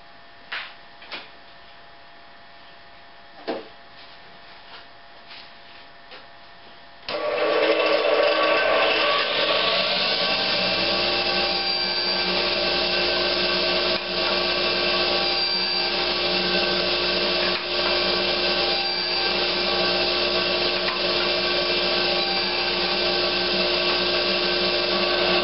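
A table saw with a standard blade raised under a quarter inch cuts a wooden tenon, passed over it with a miter gauge: a few faint knocks, then the motor spins up into a loud steady whine that drones on.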